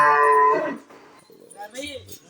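Cattle at an open cattle market in Helal Chowdhury Para, Madan Hat, Hathazari give one loud, drawn-out moo close by, then quieter, scattered market sounds follow.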